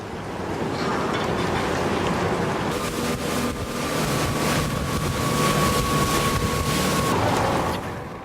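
A boat from a Japanese marine sports club motoring across the water, with loud continuous engine drone, rushing water and wind buffeting the microphone.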